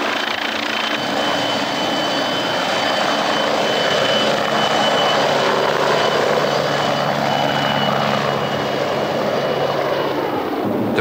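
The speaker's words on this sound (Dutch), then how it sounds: "Helikopters worden ingeschakeld om het eerste bergingsmateriaal aan boord te brengen." Helicopters ferrying salvage equipment out to a stranded ship at sea, a loud, steady rotor and turbine roar filling the whole stretch without a break or a voice.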